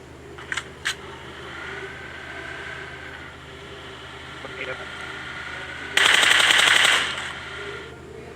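Automatic gunfire sprays at a buggy in the PUBG video game. A couple of sharp single shots come early, then a loud, dense burst lasts about a second near the end, over low background game noise.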